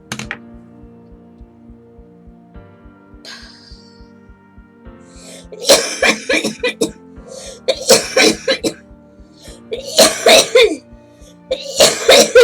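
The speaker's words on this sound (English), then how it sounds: "And this coughing is actually a pretty typical morning for me." A person coughs hard in the morning, with a dry fit of several harsh coughs and throat sounds building in bursts. The coughs are close and loud after a quieter stretch of soft breathing and small noises.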